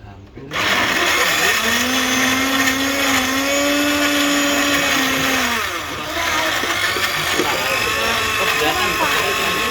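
A blender runs loud and steady for nearly ten seconds, its whine dipping briefly midway before resuming, with voices talking over it.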